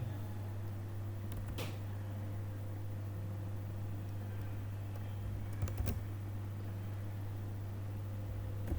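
Quiet typing on a computer keyboard, a few sparse key clicks and short bursts over a steady low electrical hum, faint and close with no voices.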